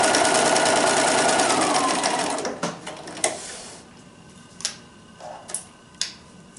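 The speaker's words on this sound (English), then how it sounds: "So we'll sew a 1/4 inch seam allowance." A sewing machine stitches a quarter-inch seam on quilt binding, a steady fast whirring run for about two and a half seconds, then stops and is followed by scattered sharp clicks and ticks from the machine.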